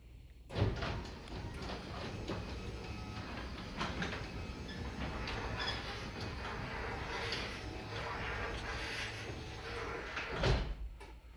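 A Genie 3055 garage door opener drives a residential garage door downward, a continuous rumbling chain-and-motor drone with rattling from the door, beginning and ending with a louder clunk, no talk.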